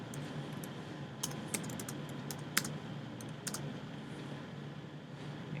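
Typing on a computer keyboard while writing code, a steady run of soft key clicks with a few sharper taps, over a constant low room hum, no voices.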